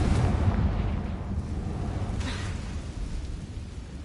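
A Confringo blasting spell explosion in Hogwarts Legacy, a heavy low rumbling blast that rolls on with a sustained boom and slowly fades.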